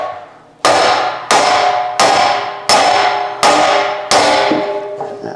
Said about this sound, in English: have a little trusty body hammer here